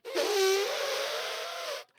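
A person imitates an elephant with the voice, one sustained, buzzy, trumpet-like blare lasting nearly two seconds, loud and close, wavering slightly in pitch before cutting off.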